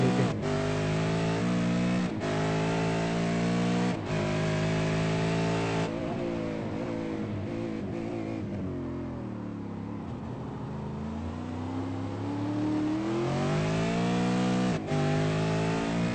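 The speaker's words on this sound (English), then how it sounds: "listen to the throttle application that he has to do just to get round this corner" V8 Supercar engine in qualifying at Zandvoort, loud and close from onboard, throttle blipping and easing through a tight right-hand hairpin before building revs again.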